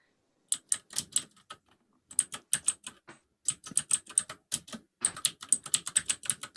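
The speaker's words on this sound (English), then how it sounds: "That's what happens when you go with a clicky keyboard." Rapid, crisp key clicks from a clicky computer keyboard, typed in quick bursts separated by brief pauses, close and clear with no talking.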